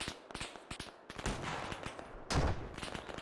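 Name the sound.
gunshots in Arma 3 video game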